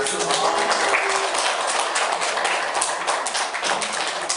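An audience at a lecture on the August war crisis claps steadily for a few seconds, a dense, even patter of many hands at moderate volume, with some voices mixed in.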